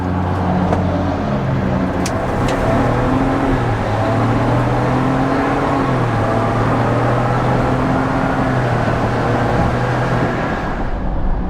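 A Ford Bronco Outer Banks with a 10-speed transmission accelerates hard from inside the cabin, with a loud, steady engine drone that climbs in pitch through each gear and drops at every upshift.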